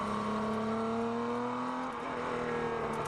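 V3000 race car on Yas Marina Circuit, its engine holding a steady high whine with harmonics rising slowly, then dipping briefly near two seconds before settling again, loud and close throughout with no talk.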